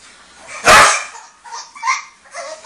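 A puppy gives one loud, sharp bark up close, followed by a few softer yips and whimpers.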